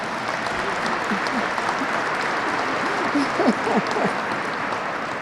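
Applause in the Capitol rotunda during a Congressional Gold Medal ceremony, an even wash of clapping echoing through the hall with faint voices beneath.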